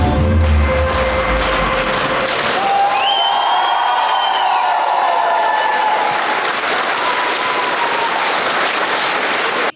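Theater audience giving a standing ovation after a wheelchair dance performance on a drama theater stage, loud sustained applause with cheers and whistles rising over the clapping, continuous throughout.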